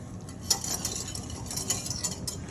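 Turkey gravy thickened with Himalayan tartary buckwheat flour bubbles at a full boil in a pan, soft irregular pops and plops with a few sharper bursts, close and fairly quiet, no voices.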